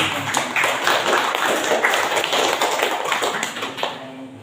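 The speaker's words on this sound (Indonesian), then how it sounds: "Silakan tepuk tangan dulu." Classroom of students clapping together at an Indonesian school lesson on motorcycle installment prices, a dense steady patter of many hands lasting several seconds before fading near the end, with no voices over it.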